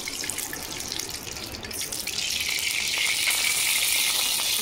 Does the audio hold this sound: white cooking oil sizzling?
yes